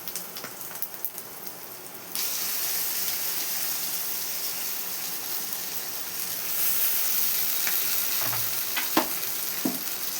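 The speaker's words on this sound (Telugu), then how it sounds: "ఈ మామిడికాయ తురిమి పెట్టుకుంది ఈ పోపులో వేసుకోవాలి." Grated raw mango hits hot tempering oil for mango rice, and a dense, steady sizzle takes over after a quieter start, with a few scrapes of stirring near the end.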